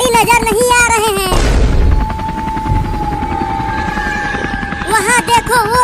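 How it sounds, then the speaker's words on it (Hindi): A helicopter flies high over a village, a steady droning whir with a sustained tonal hum in the middle, framed by music and voices at the start and end. "हेलीकॉप्टर तो बहुत ऊपर आ गया है।"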